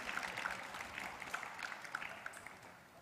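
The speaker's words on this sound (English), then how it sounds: "let's give a big round of applause welcoming the newcomers" Brief round of applause from a small temple congregation at a Sunday evening program in the Toronto Krishna Temple, welcoming newcomers; a steady, fairly faint patter of clapping hands runs through, with no talking.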